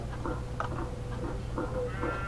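Sheep in the Minecraft video game bleat in short, repeated calls, several quick bleats in a row over a low steady background hum, fairly quiet and with no talk.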